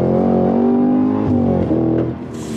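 A Cadillac CT5-V Blackwing with a manual gearbox and no-lift shift pulls at full throttle, a loud, close engine roar holding a high steady pitch, dipping briefly at the shifts before revving on.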